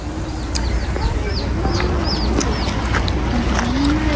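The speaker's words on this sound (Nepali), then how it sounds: "लोकल कुखुरा" A local chicken clucks in short bursts nearby at a picnic spot in Gran Canaria while small birds chirp and twitter higher up in the background.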